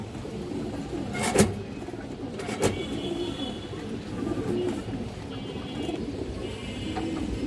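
Low pigeon coos murmur throughout, including a black female pigeon, with a couple of sharp knocks and some faint background noise.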